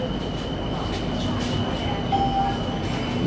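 Bangkok skytrain at National Stadium station, a steady rumbling train drone with a faint tonal whine and a brief squeal, loud and continuous.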